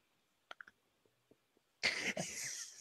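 A few faint, distant coughs and throat sounds, followed by a loud burst of rustling noise close to the microphone.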